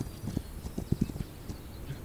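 Horse hooves from a video game clip-clop in a quick, uneven patter of soft thuds, fairly faint and close, with no talk over them.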